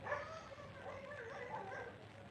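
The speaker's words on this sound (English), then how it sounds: "that dog's fighting" Dogs fighting somewhere off-mic, a continuous tangle of yips, whines and growls at moderate distance, steady throughout with no talk over it.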